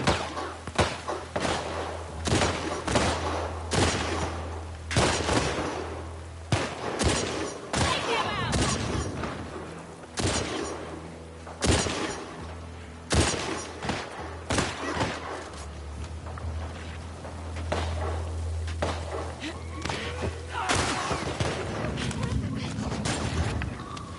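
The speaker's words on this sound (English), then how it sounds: "What are they shooting at?" Dense bursts of gunfire from a fight between enemy groups in The Last of Us Part 2, repeated sharp shots and booming thuds crackling steadily throughout at mid distance, with occasional voices among them.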